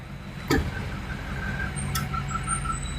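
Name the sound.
big trucks driving past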